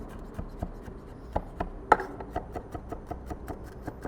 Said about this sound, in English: we've got some garlic. We're gonna go for about 1 tablespoon once it's all minced up